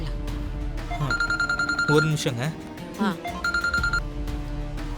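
A telephone rings in a Tamil TV serial scene, its electronic ring repeating in two bursts under a music score, with someone speaking briefly over it.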